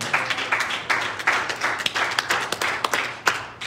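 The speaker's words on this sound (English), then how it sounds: "Will you clap your hand one more time unto the Lord?" Church congregation clapping their hands during a sermon, a lively run of quick, uneven claps from a group, close and clear with no talking over it.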